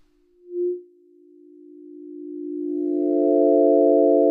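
Omnisphere synth tone with a slow LFO sweeping the filter cutoff: a pure sustained note with a soft early swell, gradually opening into a brighter, buzzier, harmonically rich drone that grows louder, alone with no voices.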